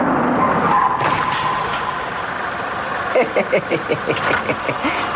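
Car crash with skidding tires in a car insurance radio ad, a long smeared skid followed by a run of rapid, evenly spaced impact bangs, loud and up close.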